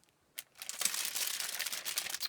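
A plastic bag holding a makeup foundation brush crinkles and rustles steadily at close range, a brief crackle followed by continuous soft scrunching, with no talking.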